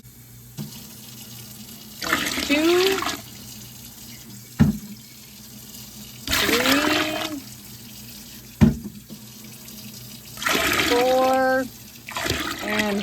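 A kitchen tap runs in three separate bursts into a pot being filled for home canning apple pie filling, each pour rising in pitch as the vessel fills, with a man counting aloud between them.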